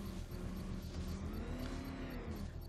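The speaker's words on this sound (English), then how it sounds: "now we can power up the engine and transfer power" The Batmobile's engine powers up in Batman: Arkham Knight, a loud, steady mechanical roar with a slowly shifting pitch that fills the whole stretch without a break.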